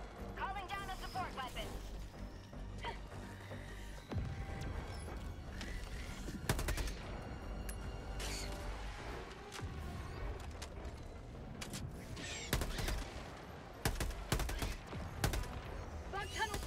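Gunfire in a video game shoots at bug eggs, with bursts of rapid automatic fire, sharp single shots and crashes over a busy game soundscape while players talk throughout.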